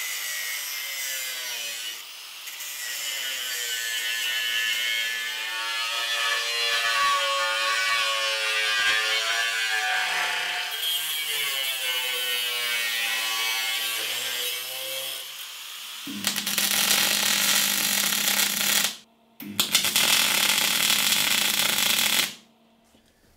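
Power tool cutting rotten metal out of a Land Rover chassis rail where old repair panels overlapped the original: a sustained, wavering mechanical whine for about fifteen seconds, then two loud, harsh, broadband cutting bursts separated by a brief pause.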